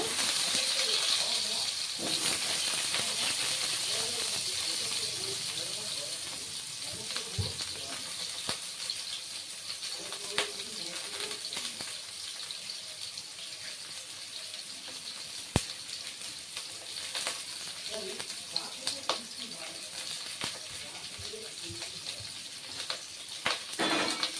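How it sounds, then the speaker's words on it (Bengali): Potatoes frying in a pan in a home kitchen give off a loud, continuous hiss and sizzle that holds steady throughout, with occasional small clicks and faint voices low underneath. "এই আলুটা ভেজে নিচ্ছি"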